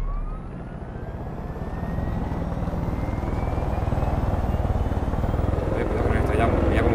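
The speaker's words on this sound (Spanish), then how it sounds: "Este helicóptero, este sí que tira." A helicopter in the video game Far Cry 5 thrums with a steady, loud rotor beat that builds slightly as it flies, with a rising whine overhead and a voice talking over it.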